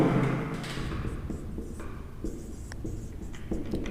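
Chalk or marker writing on a board in a physics classroom lesson on prism deviation, a steady scratchy stroking with short pauses, close and fairly loud, with no talk over it.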